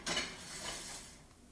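A metal Dutch oven lid clinks and scrapes briefly as it is handled for baking sourdough bread, a short close rattle fading out.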